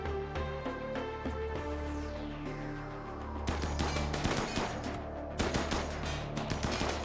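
Gunfire in the colony sim RimWorld as colonists shoot at a turret. Rapid volleys of sharp shots crackle in dense bursts over a steady game background, growing busier and louder midway.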